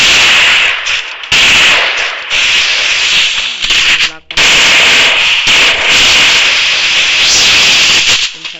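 Pistol fire in a video game, a loud dense burst of shots running almost continuously with brief gaps, crowding out other sound.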